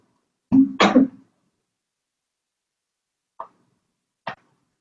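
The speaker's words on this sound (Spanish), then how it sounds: "perdón que me dio un poquito de carraspera aquí" A short, throaty clearing sound up close, followed after a pause by two faint, brief clicks.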